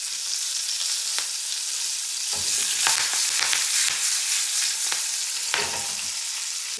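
Green chillies and curry leaves sizzling in hot oil for dadpe pohe, a loud continuous hiss and crackle broken by a few sharp stirring scrapes.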